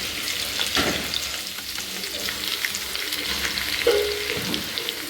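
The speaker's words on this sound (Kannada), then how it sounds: "ಒಂದು ನಾಲ್ಕು ಪೀಸನ್ನು ಹಾಕಿದ್ದೇನೆ ಫ್ರೈ ಆಗಲಿದ್ದು" Four pieces of black pomfret fish fry in a pan, giving a steady, close, crackling sizzle throughout with a few soft stirring and turning sounds.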